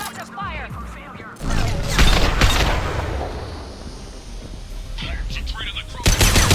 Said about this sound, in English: deploy suppressive fire!